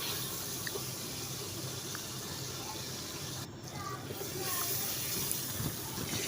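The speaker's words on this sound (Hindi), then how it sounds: "अब इसमें 1 गिलास पानी डाल देंगे" A glass of water poured into a pan of frying masala for an aloo arbi dish, a faint steady gush of liquid with a short drop in level midway, in a quiet kitchen.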